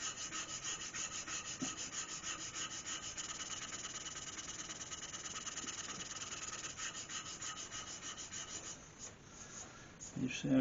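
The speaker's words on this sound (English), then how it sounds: "So don't be frightened to stop the lathe and sand it by hand" A cherry wood bowl is sanded by hand on a stopped lathe, giving close, quiet, steady rubbing strokes of abrasive against the grain-smoothed wood, with a few light knocks near the end.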